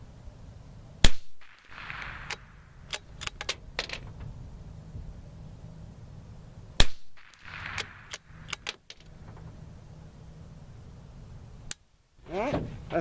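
A Savage Mk II FV-SR .22 rifle fires on a 100-yard range, three sharp, close cracks spaced several seconds apart, with smaller metallic clicks and handling noises between them and a quiet outdoor background.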